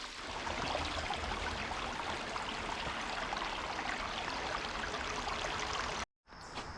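Creek water rushing steadily around a person standing mid-stream on a state park trail, a dense, close, continuous wash that stays even throughout before cutting out briefly near the end.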